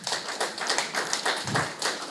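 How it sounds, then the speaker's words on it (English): Audience applause at a Sir Dwight Venner Independence event of the UWI Global Campus in St. Vincent and the Grenadines, a steady patter of many hands clapping, fairly close and sustained for a couple of seconds with no talk. "Dr. Adrian Fraser, round of applause for this man."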